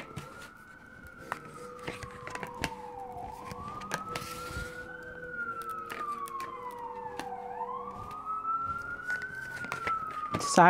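Emergency vehicle siren outdoors with a wailing rise-and-fall sweep that repeats several times, passing at moderate distance and growing slightly louder toward the end, under a person talking throughout.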